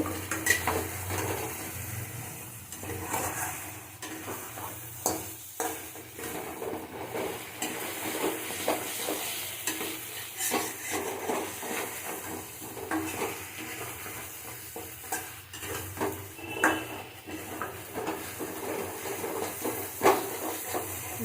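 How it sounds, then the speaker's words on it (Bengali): Fried bhetki fish being stirred and tossed in spice masala in a pan, a soft continuous sizzle and hiss broken by irregular scraping and stirring clatters, fairly quiet and close, with no talk. "ভাজা মাছগুলো দিয়ে দেবো দিয়ে আমি আবারও কষিয়ে নেব মশলাটা"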